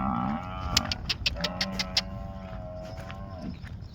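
Cattle, cows and buffaloes, low loud moos one after another outdoors, with short sharp knocking noises in between; no talking.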